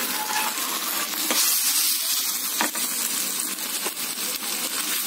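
Bread Manchurian stirred in a hot pan with sauces and coriander: a steady, loud sizzle of frying goes on without a break, with soft scraping and stirring strokes now and then, and no voices.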